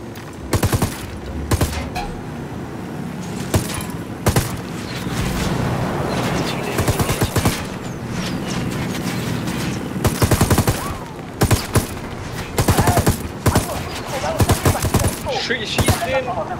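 Bursts of automatic gunfire hit a vehicle convoy in Ghost Recon Wildlands, loud rapid volleys repeating at irregular intervals over a constant engine rumble, with people speaking German between shots.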